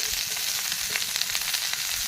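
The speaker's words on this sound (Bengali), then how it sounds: "ভাজা ভাজা করে নিই" Diced potato and pointed gourd frying in hot oil with chili, a continuous crackling sizzle close up, steady and bright with small popping bursts and no talking.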